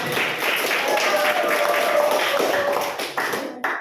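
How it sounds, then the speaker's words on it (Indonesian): Classroom applause for a male teacher, a crowd of students clapping continuously with voices mixed in, fading out after about three and a half seconds. "Beri tepuk tangan dulu untuk Bapak."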